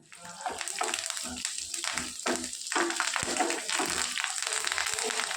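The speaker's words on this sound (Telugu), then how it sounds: "జీలకర్ర, ఆవాలు, ఎండుమిరపకాయలు, కరివేపాకు వేసుకొని వేయించుకుందాం." Cumin, mustard seeds, dried red chillies and curry leaves fry in a tablespoon of oil in a pan for a street-style chutney tempering, with close crackling sizzles and spattering pops and stirring scrapes.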